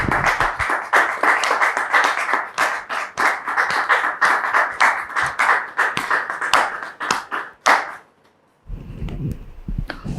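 Audience applause welcoming a guest to the stage, brisk close clapping with sharp individual claps that carries on for about eight seconds, then stops abruptly and gives way to a brief low rumble.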